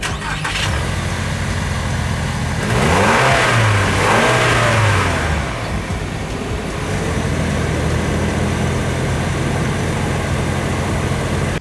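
A Toyota Land Cruiser Prado 250 VX's 2.4-liter four-cylinder turbo petrol engine, running close by, revs up sharply twice in quick succession, then settles back to a steady idle.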